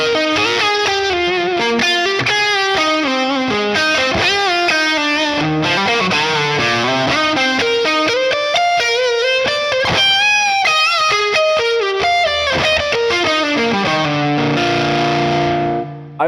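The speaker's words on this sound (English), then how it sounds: "On the overdrive channel though, it still has a lot of clarity," Gibson electric guitar played on the neck pickup through an amp's overdrive channel, a continuous distorted melodic passage of sustained notes and chords at steady loudness, ending with a ringing held chord, with no voices.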